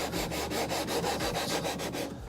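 A radius sanding beam works back and forth across a 16-inch-radius guitar fretboard in a repair shop, making steady rhythmic rubbing strokes about four per second, close and moderately quiet, with no talking.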